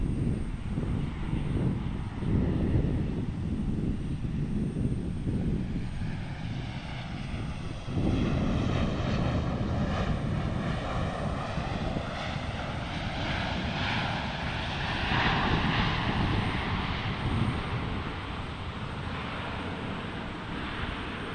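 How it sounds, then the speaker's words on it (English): An American Airlines Airbus A319 airliner on the runway at Portland International Airport, its jet engines roaring loud and steady as it spools up for takeoff, the sound swelling and sweeping through the whole stretch. "American getting ready to take off on our A319."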